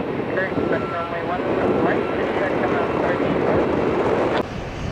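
A Southwest airliner rolling on the runway at Tampa airport, a steady broad engine roar with wind buffeting on the microphone, cutting off abruptly near the end, while a person talks over it.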